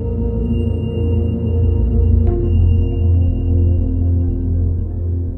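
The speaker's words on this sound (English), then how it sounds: "This is a sample of what the tones sound like." Steady layered hum of audio tones for subconscious reprogramming, low droning pitches stacked together with a faint high whine, continuous and even throughout, with one brief soft click partway through.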